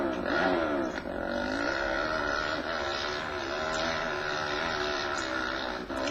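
An ATV engine in the video game ATV Offroad Fury drones steadily at high pitch with slight revving swells, continuous and close throughout.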